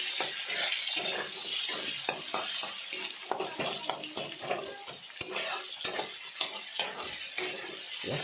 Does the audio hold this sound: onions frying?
yes